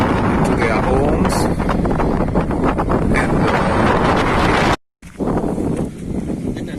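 Strong wind on Annalai island buffets the microphone in a loud, continuous roar, with a brief dropout near the end before the gusting resumes.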